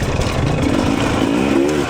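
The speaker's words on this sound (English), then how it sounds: "I definitely feel like this one's idling low." A 2026 Husqvarna TE300 dirt bike engine idles low and steady close by, a continuous throbbing two-stroke burble filling the whole stretch.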